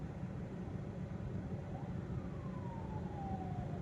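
An ambulance siren sounds while stuck in heavy traffic, one faint falling wail rising above a constant loud rumble of idling engines and street noise.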